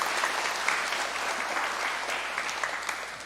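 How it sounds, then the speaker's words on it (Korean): A church congregation applauds during a Sunday worship service, a steady, moderately distant wash of many hands clapping throughout, with no talking. "우리 박수로 격려 한번 하겠습니다"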